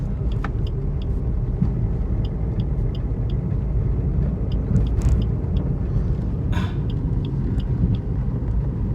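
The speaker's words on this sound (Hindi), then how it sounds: "आरपीएम ज़्यादा इंक्रीज हो रहा है देखिए, तो अब मैं थर्ड गियर को लगा लूंगा" A manual car's engine revs steadily from inside the cabin as the driver shifts into third gear: a continuous low rumble with faint clicks and a couple of brief knocks.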